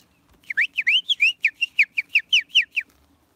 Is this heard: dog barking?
no